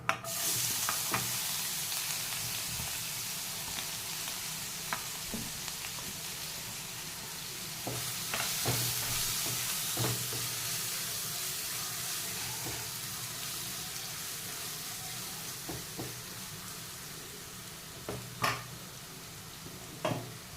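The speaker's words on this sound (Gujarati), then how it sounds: "ડુંગળીને આપણે શેકાવા દેવાની." Onion roasts in oil with asafoetida and bay leaf for a bottle gourd pav bhaji, a soft, even sizzle throughout with occasional spoon scrapes and clicks against the pan.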